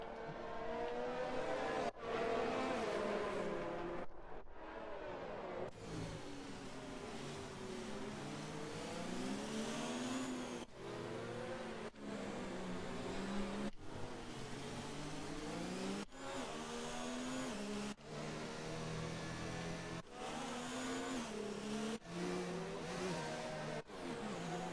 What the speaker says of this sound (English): There's some racing going on before the race has even begun.